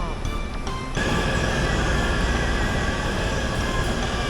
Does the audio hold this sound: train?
yes